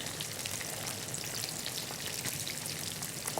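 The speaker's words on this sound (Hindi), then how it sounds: "चिकन को फ्राई करना है, ओवर कुक नहीं करना है कि चिकन हार्ड हो जाए।" Chicken pieces fry in hot oil with a steady, dense sizzle and fine crackling, close and even throughout, with no talking.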